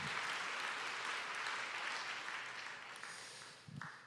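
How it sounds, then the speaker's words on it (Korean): A church congregation applauds the speaker's wife at a Sunday service, a dense, sustained round of clapping that fades slightly toward the end, with a few faint voices underneath. "저희 아내에 위해서 한번 좀 큰 박수 부탁드립니다"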